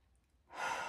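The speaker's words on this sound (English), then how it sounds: "take a few deep breaths, loud exhales" One audible exhale of a deep breath, a faint breathy rush starting halfway through after near silence, close and soft.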